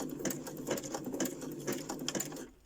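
A sewing machine runs a zigzag stitch with a steady, fast mechanical patter up close, stopping just before the end.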